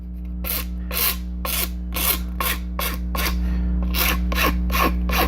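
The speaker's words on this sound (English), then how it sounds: "And I'm filing this way" A big metal file rasps across a part of a 1/8 scale Black Moth Heavy model near wood, making about a dozen close, even strokes in a steady back-and-forth rhythm.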